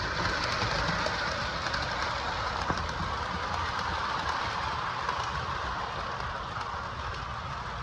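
Lionel Great Northern 4-8-4 Berkshire model locomotive running on track, a steady whirring motor hum with faint rail clatter, continuous and moderately near throughout.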